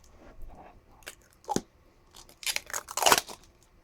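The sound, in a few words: plastic wrapping being torn off a doorbell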